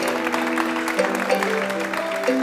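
Applause for a reggae artist on a Burkina Faso TV variety show, a dense continuous clapping from a studio crowd with a musical tone sustained beneath it.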